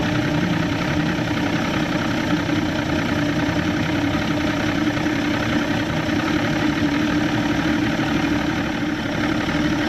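An Evinrude 150XP outboard motor on a McKee Craft boat with a loss-of-power fault idles steadily and loudly up close, a constant rough churning drone with no talking.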